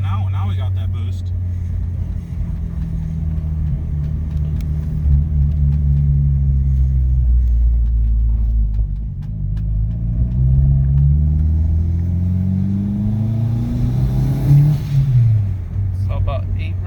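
A Honda Civic EM2 fitted with a turbo accelerates hard, its engine drone climbing steadily in pitch through the gears with a brief dip at a shift, loud and close from inside the car, while people talk over it.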